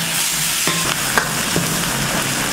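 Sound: soaked chana dal frying with onions in pan

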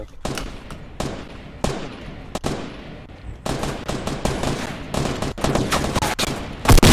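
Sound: gunshots in Fortnite Battle Royale video game

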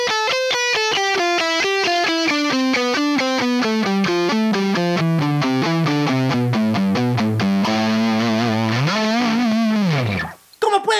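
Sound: distorted electric guitar alternate picking lick

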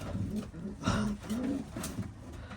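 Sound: pigeon hen cooing

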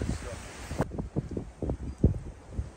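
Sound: wind blowing into the microphone outdoors

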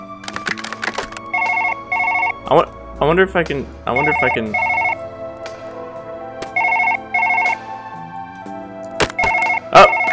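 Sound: telephone ringing in Surgeon Simulator 2013 video game

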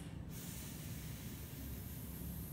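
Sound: voice imitating unvoiced F fricative, steam-like hiss

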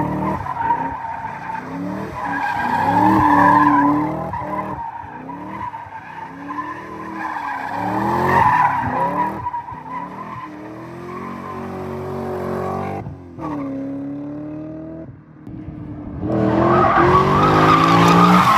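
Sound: car drifting with tire squeal

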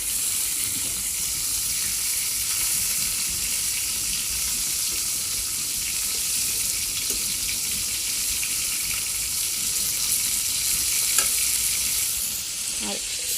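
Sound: eggplant frying in oil

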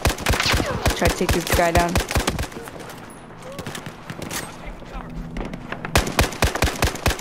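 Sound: gunfire in Battlefield 4 video game

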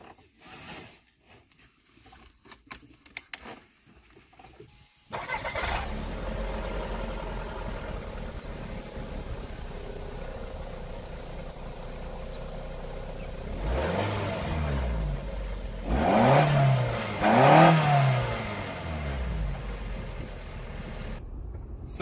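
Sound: car engine starting and driving

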